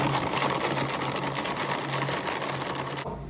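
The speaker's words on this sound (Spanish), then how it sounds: "Vamos a echar nuestro noni a la licuadora ya partido en pedazos." A kitchen blender whirring steadily as it liquidizes chopped noni fruit with water, a loud continuous motor drone with fast rhythmic pulsing that cuts off abruptly near the end.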